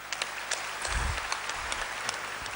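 Dense applause fills a hall at a poetry moment during a youth camp at Patanjali Yogpeeth, a steady patter of many hands with a few sharper claps standing out, with no talking.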